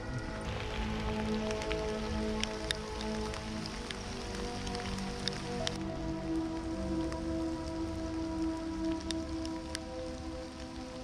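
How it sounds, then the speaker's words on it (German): Steady rain patters on leaves and the ground in the Reichswald forest near a lake, a continuous close hiss with occasional sharper drips throughout. "Der Regen hat ein wenig nachgelassen."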